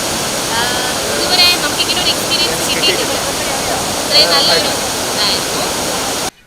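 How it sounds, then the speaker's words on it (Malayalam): Attukad waterfall near Munnar, close to Pallivasal, gives off a loud, steady roar of falling water throughout. Faint voices surface briefly in the background. "ഈ വാട്ടർഫോൾസൊക്കെ നല്ല ഭംഗിയുണ്ട്"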